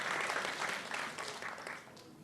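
Round of applause from guests at a wedding reception: continuous crowd clapping, moderately distant and even, lasting the whole brief moment.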